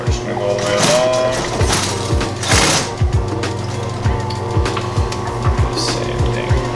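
A sewing machine stitches leather D-ring loops for a duffle bag in short bursts of rapid mechanical thumping, pausing and restarting as it back-stitches, close and fairly loud, with someone talking over it.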